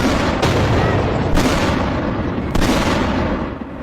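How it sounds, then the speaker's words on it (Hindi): Missile strikes on a highway during the Iran–Israel conflict: three sharp, loud blasts roughly a second apart ring over a dense, continuous roar, with no voices. "देखिए हाईवे पर आकर मिसाइल गिरी"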